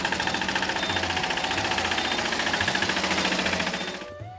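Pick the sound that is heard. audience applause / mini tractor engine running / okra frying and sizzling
mini tractor engine running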